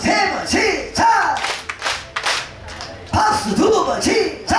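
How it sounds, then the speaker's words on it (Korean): A festival crowd at an outdoor stage show claps in unison on a performer's count, with a few sharp group claps bunched together and spaced by loud talk and shouting from the stage. "박수 세 번 시작"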